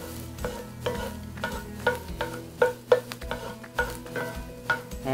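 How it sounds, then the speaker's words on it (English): A spatula stirs browning meat in a frying pan for sloppy joes, giving a string of close scraping strokes over a soft, steady sizzle, with no one talking. "let's give this a little stir. I'm starting to get a little brown"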